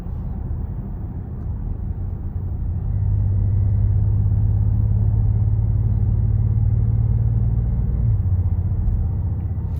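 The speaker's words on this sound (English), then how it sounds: "the twin turbo inline six, it just, the way it pulls, the way it sounds, just so much fun" A 2026 Dodge Charger Scat Pack Plus with a twin-turbo inline-six drives along, heard from inside as a steady low engine drone that swells after a few seconds into a sustained loud hum, then eases slightly near the end.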